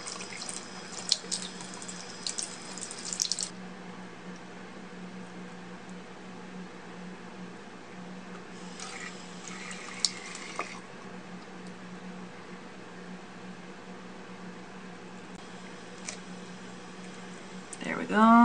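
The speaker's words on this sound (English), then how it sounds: "I'll add a little bit more water here." Water running from a tap while softening a stuck tattoo bandage, in splashy bursts that start and stop, with quieter gaps of room noise between and a brief clatter at the end.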